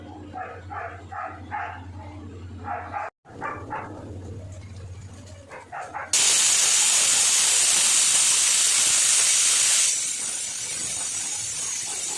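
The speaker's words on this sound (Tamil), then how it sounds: "பாருங்க 2 விசில் வந்துச்சு." A pressure cooker whistles loudly while chicken biryani cooks on the stove, a sudden sustained high hiss of steam that follows a stretch of kitchen sounds with a steady low hum and some barking, then eases slightly near the end.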